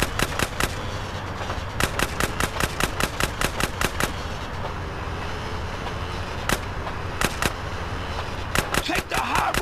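Rapid gunfire in GTA San Andreas during a chase from a train, loud sharp shots in quick bursts and runs under a constant rumbling engine and motion noise, with no talking.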